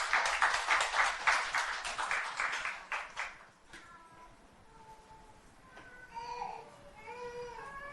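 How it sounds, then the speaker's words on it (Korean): A church congregation applauds to welcome a guest speaker: a dense burst of clapping for about three and a half seconds, then fading into quieter room sound with faint tonal noises. "박수로 맞이해 주시기 바랍니다."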